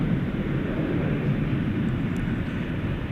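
An Iberia Airbus A330 taxiing out at Dallas Fort Worth airport at night, a steady broad engine rumble at moderate distance, even and unbroken with no voices.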